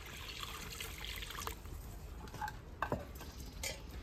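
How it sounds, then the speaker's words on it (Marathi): Water trickles and splashes into a metal wok on the stove, ready for steaming sorghum masala idli. It is a steady, close pour with occasional clinks of the pan and no talking. "आपण इडली वाफवण्यासाठी आता कढईत पाणी टाकून घेऊ."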